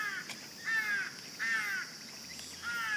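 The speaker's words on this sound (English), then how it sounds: "I dislike crows." Crows caw outdoors on a Fukuoka street, with about four faint, distant harsh calls spaced out over a quiet background hiss.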